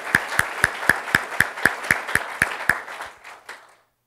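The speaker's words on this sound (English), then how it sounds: "let's give them a round of applause" Rhythmic clapping, crisp and evenly spaced like one or a few pairs of hands, goes on for about three seconds, then thins out and stops.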